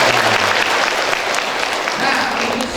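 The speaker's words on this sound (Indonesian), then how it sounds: "Kasih tepuk tangan bagi kita semuanya." An audience at a community health centre gathering claps loudly and steadily for the whole short stretch, dense overlapping applause with a few voices underneath.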